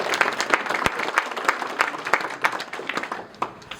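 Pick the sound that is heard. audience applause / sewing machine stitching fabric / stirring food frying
audience applause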